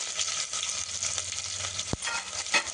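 Onion frying in oil with cloves and cardamom: a steady close sizzle and crackle throughout, with a sharp utensil clink near the end.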